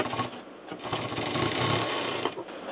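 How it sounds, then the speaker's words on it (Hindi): A sewing machine stitches a fabric toaster cover with a fast, continuous whirring hum, a couple of short pauses, and a sharp click at the end. "और इसको यहाँ पर इस तरह से सिलेंगे, इस तरह से"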